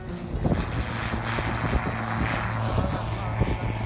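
A Czech SportCruiser light aircraft climbing after takeoff from Santa Monica, its steady engine drone heard from inside the cockpit under strong buffeting wind noise on the microphone.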